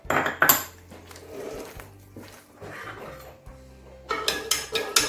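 A utensil clinks and scrapes against a bowl while stirring pempek dough of water, salt, sugar and seasoning, with a sharp burst of clatter at the start and a flurry of repeated knocks near the end.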